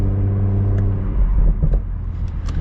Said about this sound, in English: Got little pops out of the exhaust, which is fun.